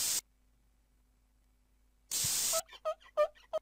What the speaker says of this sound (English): Spray the paint again to add more color.